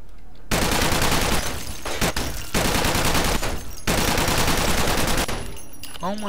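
Dense, continuous bursts of gunfire from a first-person shooter game, loud and sustained with brief gaps, ending in a short spoken exclamation.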